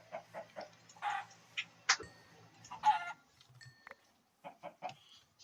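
Minecraft chickens clucking in short, separate bursts, a few soft clucks spaced across several seconds with nothing else sounding between them.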